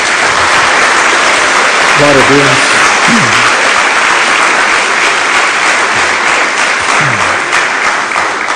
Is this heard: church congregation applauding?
yes